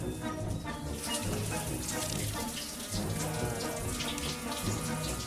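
A video game shower running, a steady close hiss of spraying water with faint dripping and splashing throughout, without talk.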